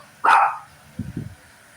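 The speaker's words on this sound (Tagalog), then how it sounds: "Kasi yung aso ko batok ng batok." A pet dog gives one loud, sharp bark, then a couple of softer, lower woofs close by.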